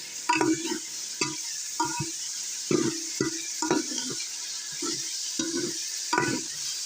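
Sliced onions sizzling in hot oil in a pan for a cauliflower curry, with a steady frying hiss and a utensil repeatedly scraping and stirring in rhythmic strokes close by.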